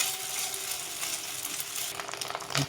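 An egg fries in a pan over browned onions, giving a steady close sizzle with soft stirring scrapes and a brief metallic clink near the end.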